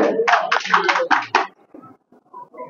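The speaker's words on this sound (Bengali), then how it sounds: "যারা খেলাধুলায় পুরস্কার তাদের জন্য হাততালি দেন" A crowd at an outdoor prize-giving gathering claps in a short burst of several loud, uneven hand claps, which then fade into scattered sparse claps and background murmur.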